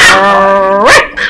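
A new puppy gives a loud, close, drawn-out whining growl that rises into a sharp bark, followed by a shorter yelp, with no talking.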